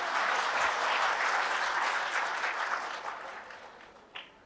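Sustained applause from a large audience at a spiritual discourse gathering, dense clapping that holds steady and then thins out and fades near the end with a few last claps.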